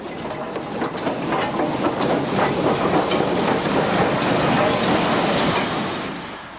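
Steam locomotive 4472 hauling the annual Festiniog Railway Special in April 1963, a loud sustained rush of steam and rolling coaches with rapid rhythmic chuffing and wheel clatter that swells, holds steady, then eases slightly at the end.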